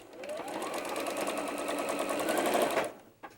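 A sewing machine runs in one steady, close stitching run for about two and a half seconds while quilt sections for a mini double wedding ring are pieced together, then stops abruptly, followed by a brief clunk.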